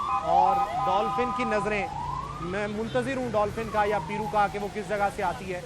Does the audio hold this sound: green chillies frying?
no